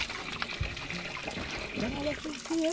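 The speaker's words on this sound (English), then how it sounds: "This is fresh water, spring water." Cold, clean spring water trickles and splashes steadily at a rural Jamaican spring, a close wet babble with voices talking over it.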